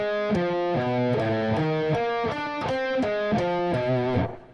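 Distorted electric guitar runs through a sweep-picking exercise with changing chord shapes, a continuous loud stream of fast arpeggiated notes in repeating ascending and descending patterns, played alone and ending with a quick fade.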